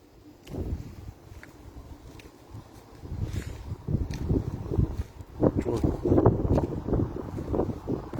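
Outdoor wind in a village buffets the microphone, producing low rumbling gusts that rise and fall and grow stronger over several seconds, with no talking.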